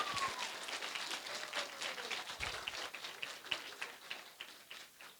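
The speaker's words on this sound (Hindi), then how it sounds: "हम लोगों की तालियों की गूंज से बताते हैं। तो कितनी जोर की आप कर सकते हैं?" Applause from a children's storytelling audience at a literature festival: a scattered patter of clapping hands, moderately faint and somewhat uneven, fading slightly toward the end.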